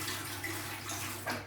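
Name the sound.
water poured out of a MeacoDry Arete One dehumidifier tank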